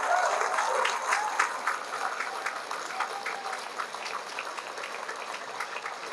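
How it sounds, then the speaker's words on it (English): An audience claps steadily at a political rally in a banquet hall, a dense patter of many hands that starts fuller and gradually thins out, heard from within the crowd. "Let's give them a big round of applause"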